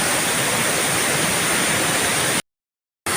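A mountain river rushes nearby as a loud, steady broadband roar of flowing water, continuous except for a brief complete dropout near the end.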